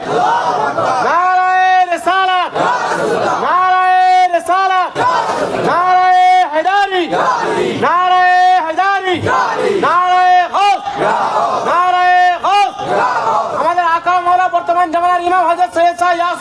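A large crowd at a Bengali religious gathering chants loudly and rhythmically in reply to a takbir call, with repeated unison shouts that swell and break in regular waves throughout.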